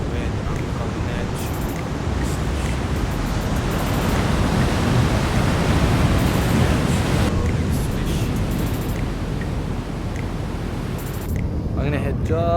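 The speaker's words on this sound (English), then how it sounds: "crashing over the waves right on the shore" Ocean surf at a Sydney beach gives a broad, continuous roar that swells and eases while waves break near the shore, with wind noise mixed in.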